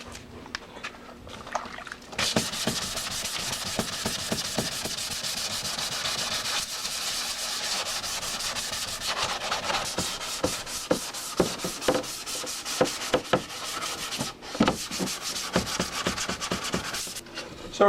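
Steady rhythmic rubbing of wet sandpaper, 400 or 600 grit, on a motorcycle part, strokes repeating briskly and close by for a long stretch with a short pause partway through.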